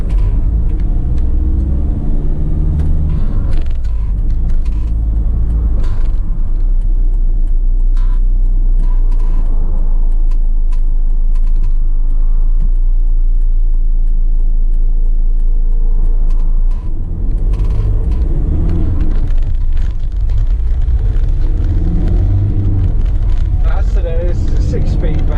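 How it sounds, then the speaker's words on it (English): Engine rumble of a 2016 Volkswagen Crafter dropside truck on a test drive, a steady, loud low drone inside the cab that swells as it pulls away, with speech over it at times. "So we're now sat inside this 2016 Volkswagen Crafter Dropside truck. Let's take on a quick test drive"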